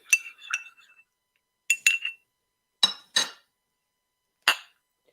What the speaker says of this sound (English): Let's clink.